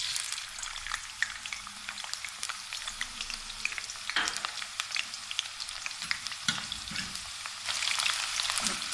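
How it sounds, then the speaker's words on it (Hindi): Chopped onions fry in about half a cup of oil in a pot over medium heat, making a dense, continuous crackling sizzle that swells briefly a few times, with no voices. "प्याज को थोड़ा सा फ्राई कर लेते हैं।"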